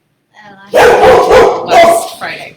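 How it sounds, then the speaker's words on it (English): Several dogs bark loudly and close by in a home kitchen, a few sharp overlapping barks and yips, with a person speaking briefly over them. "I'm sorry about the dogs."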